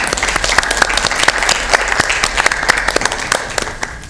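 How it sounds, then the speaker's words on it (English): A round of applause at a commission meeting after a motion passes: a small room of people clapping steadily and fairly close for several seconds, with no talking. "Are the rounds of applause happening because I'm a basketball announcer?"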